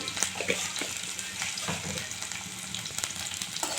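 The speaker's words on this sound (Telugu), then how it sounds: "ఇందులో జీలకర్ర ఆవాలు అలానే కొద్దిగా కరివేపాకు అలాగే ఆనియన్ ఇలా వేసుకొని ఫ్రై చేసుకోవాలండి" Cumin, mustard seeds, curry leaves and onion sizzle and crackle in hot oil for a fish curry, a steady close frying hiss broken by small pops and stirring scrapes, with no speech.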